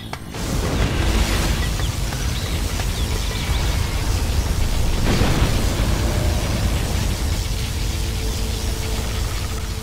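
Loud, dense blasts and rumbling booms from a video game particle cannon roll on without pause, a continuous wall of synthetic explosive noise.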